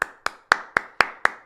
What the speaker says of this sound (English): I'm going to take a moment and I'm going to clap